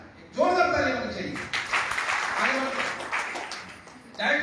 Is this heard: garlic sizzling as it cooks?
no